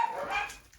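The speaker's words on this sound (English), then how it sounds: "my neighbor's dog is out and they won't stop barking" A dog gives a short, high yipping bark indoors, moderately close and brief, with no talk over it.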